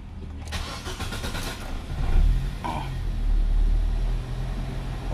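Nissan Almera 1.5 with a loss-of-power and overheating fault cranks and starts, a brief starter whir giving way to a rising engine roar that settles into a steady idle.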